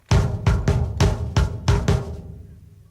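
Drum kit beat with double bass drum pedals, the feet following the hand sticking pattern: six or seven heavy, evenly spaced low thumps layered with cymbal wash, played slowly and close up, with no talking.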